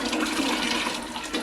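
Lye water is poured slowly into a pot for hot process soap, giving a brief, steady splashing pour that is fairly loud and close.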